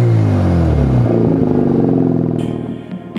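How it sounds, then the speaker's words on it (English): A Mazda FD RX-7 with an R Magic exhaust revs hard through a throaty exhaust, harmonics rising and falling, then drops off and settles to a rough idle. "an R Magic exhaust, which makes this amazing sound"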